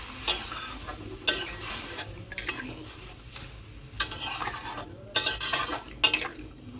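Stirring food in a pot for a home-style basanti pulao and chicken kosha: soft scraping and clinking of a spoon against the pot, with sharp knocks at irregular intervals and no talk.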